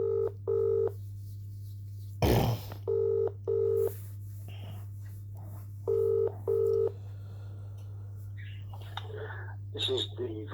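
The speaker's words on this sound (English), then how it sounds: "ringing up Graeme Kenna." A telephone call to a council legal department dials out in a series of evenly spaced DTMF tone beeps over a steady low line hum, interrupted by a brief crackle, with faint sounds near the end.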